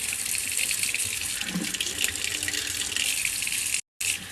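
Warm tap water runs steadily into a container for sourdough bread, a continuous close hiss and splash that briefly cuts out near the end before resuming.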